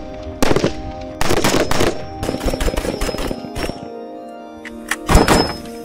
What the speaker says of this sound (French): Le bruit assourdissant des balles sortant de leur chambre de tir, mêlé à celui de la résonance métallique des cibles qui sont atteintes